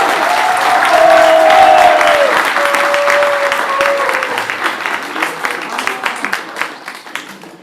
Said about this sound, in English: a round of applause and cheers for Team Russia